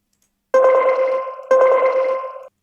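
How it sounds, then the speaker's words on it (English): A synthesized plugg-style bell-like accent note for an RnB beat, struck twice, each hit ringing about a second with a slight echo, clean and loud against silence. "next I'm gonna grab a sort of like plug sound,"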